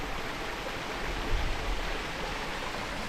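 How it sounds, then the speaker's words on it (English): A small waterfall on a Great Smoky Mountains trail, low in flow and with some ice, gives a steady hissing rush of water at moderate level, swelling slightly midway, with no talking. "Coming up on another small waterfall, also not grotto, but it does have a little more flow on it"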